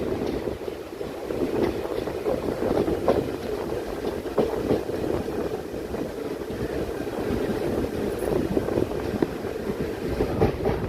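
Parasuram Express train rolling into Thiruvalla railway station in Kerala, a steady low rumble of wheels and carriage noise with wind buffeting the microphone, continuous and fairly loud throughout with no talking.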